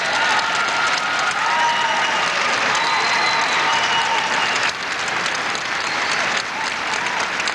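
Crowd at a 1990 dog show at the Garden applauding loudly and continuously, a dense wash of clapping with faint cheering mixed in, dipping slightly in level toward the end.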